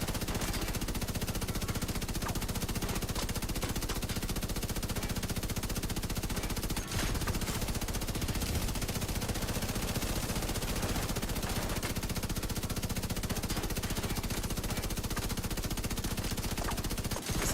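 Sustained automatic gunfire in The Division 2: a loud, continuous rattle of rapid shots that carries through the whole stretch with only brief breaks, and there is little talk over it.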